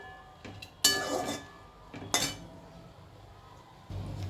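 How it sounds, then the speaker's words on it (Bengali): A lid is set down on a cooking pot of mixed-vegetable chorchori with bori and mustard paste, giving two sharp metallic clanks about a second apart over quiet kitchen background. "এবার বড়ি আর সর্ষে ভালো করে মিশিয়ে আমি ঢাকা চাপা দিয়ে দেবো"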